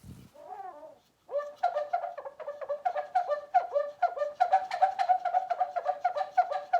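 A medium-sized bottle bird chirper toy gives a steady run of bright, warbling chirps at a quick, even rhythm, loud and close, after a short chirpy burst and a brief pause.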